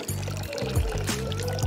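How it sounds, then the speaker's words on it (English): Water poured onto cooled wood ash in a container to make a homemade insecticide, a steady close pour with low sloshing and gurgling pulses for under two seconds. "Mix 100 grams of the ash with 2 liters of water."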